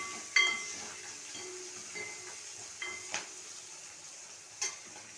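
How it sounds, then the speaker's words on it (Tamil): Onions with a pinch of salt sautéing in a pan for a chicken liver gravy, a faint steady sizzle broken by a few sharp clinks and scrapes of a utensil against the metal. "வெங்காயம் நல்லா வதங்கிடும் சீக்கிரம்"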